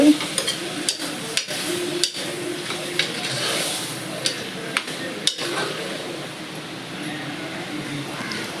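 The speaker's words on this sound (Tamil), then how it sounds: "கிளறி விட்டுட்டு" Mutton and water stirred together in a cooking pot for mutton soup, with steady scraping and sizzling broken by a few sharp clinks of the spoon against the pot.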